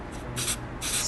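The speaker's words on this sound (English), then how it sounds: "I'm going to spray directly into the cards, holding my can back about 7 to 10 inches" Two short, light bursts of hiss from an aerosol can held several inches back, spraying onto barber cards during a classic fade haircut; the second burst is slightly longer, both fairly close.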